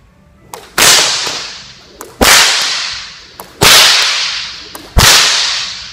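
Four sharp sport whip cracks ring out alone at a steady, unhurried rhythm, each preceded by a softer swish and followed by a decaying echo.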